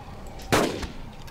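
A single sharp shot fired at an ankylosaur in the video game Carnivores, using a bolt-firing weapon, sounding as one brief, fairly loud crack with a short tail over quiet ambience.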